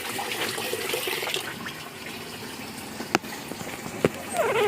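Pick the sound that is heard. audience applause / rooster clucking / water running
water running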